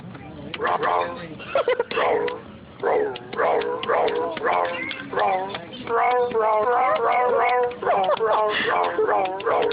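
A toy cat keyboard's electronic dog sound plays in short bursts of bow-wow barks and yips, tinny and close, repeating in quick succession.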